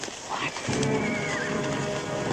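Horses whinny and neigh close by, mixed with hooves shuffling and a busy outdoor din, loud and continuous throughout.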